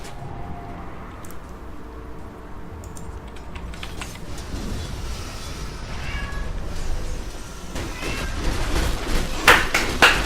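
A pet cat meows indoors, short faint mews under steady keyboard typing and background game sound.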